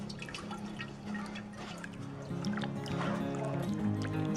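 Water pours and trickles through a pot of soaking corn being washed for akam corn paste, a close, continuous splashing flow that grows louder and busier partway through.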